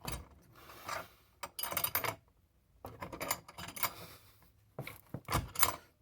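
A wrench tightens clamps on the back of a guitar being glued, giving close, irregular bursts of ratcheting clicks and metallic clatter separated by brief quiet gaps.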